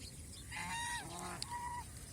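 Several geese at a goose farm give short, nasal honks in quick succession, two or three overlapping calls heard fairly close against a quiet background.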